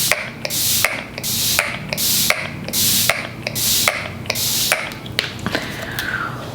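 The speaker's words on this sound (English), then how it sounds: "I'm gonna go ahead and spray the face down using the same primer, the NYX Bear With Me Prime Set Refresh." NYX Bear With Me Prime Set Refresh setting spray is misted onto a face in a run of about seven quick, evenly spaced hissing spritzes, close and clear, with a faint mechanical hum underneath.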